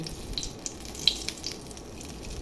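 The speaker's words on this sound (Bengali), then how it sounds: "তেল গরম হয়ে গেছে একটা সময় মরিচ ফোড়ানো" Chillies fry in hot oil for a mixed vegetable dish, a faint, steady sizzle broken by a few small crackles and pops.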